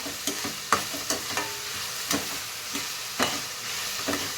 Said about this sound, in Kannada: ಈರುಳ್ಳಿ ಸ್ವಲ್ಪ ಗೋಲ್ಡನ್ ಕಲರ್ ಆಗಲಿ, ಅಷ್ಟು ತನಕ ಫ್ರೈ ಮಾಡ್ಕೊಳ್ಳೋಣ